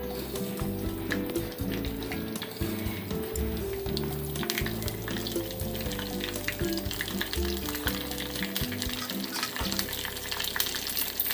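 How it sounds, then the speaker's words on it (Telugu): Spices, cashews, asafoetida and curry leaves spluttering in hot oil for a tempering, a dense crackling sizzle under a loud continuous low hum. "భలే చిటపటా సౌండ్ అవుతుంది కదా"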